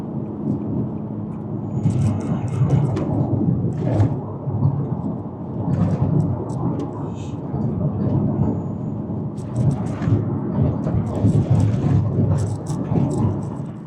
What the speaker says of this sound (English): this car is super loud right now that I'm running no cats